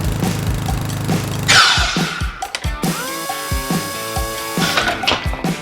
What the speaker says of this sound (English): I'm going to cut these down to a different size at the miter box